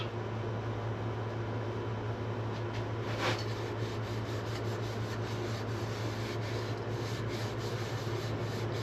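Fine-grit sandpaper, around 600 to 1,000 grit, rubs over a turned wooden candy-stripe bowl in a steady, soft, continuous hiss beneath a constant machine hum, quiet and unbroken.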